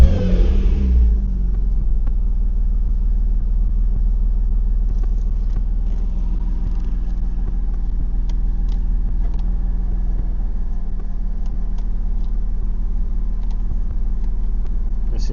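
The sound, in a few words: Porsche Boxster 986/987 engine starting and running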